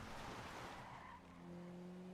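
A video game car skids with a faint, smeared tire screech that settles into sustained squealing tones, quiet and brief, with no voices.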